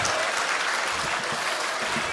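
Sustained applause from a large audience at a poetry mushaira in Jaipur, a dense, even wash of clapping that runs unbroken through the moment.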